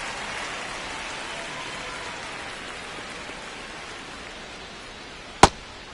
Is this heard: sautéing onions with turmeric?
no